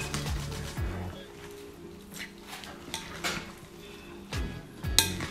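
Glass noodle salad with mango being tossed and mixed in a small bowl, utensils scraping and clinking against the dish in short irregular bursts, close and moderately loud.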